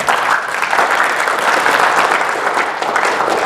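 An audience claps steadily in a dense, loud wash of applause at a community preparedness session on megathrust earthquake risk, sustained throughout with no speech.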